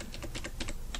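Rapid keystrokes on a computer keyboard while entering a custom number format in spreadsheet software, a steady run of light clicks close up with no talk.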